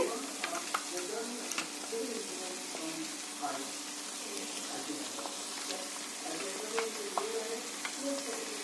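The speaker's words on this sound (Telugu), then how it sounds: "ఒకసారి కలుపుకుందాము కలుపుకొని పచ్చివాసన పోయే వరకు" Green chilli paste fries in a pan with a soft, continuous sizzle, broken by light scrapes and taps as it is stirred, quiet and close.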